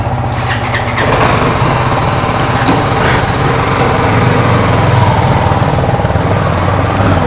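A BMW 310 GS motorcycle engine runs steadily and loud for the whole stretch, a continuous buzzing drone as the bike rides off with other bikes nearby, no talk over it.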